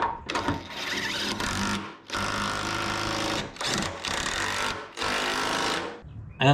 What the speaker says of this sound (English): the plan is to use the old impact machine and suck that down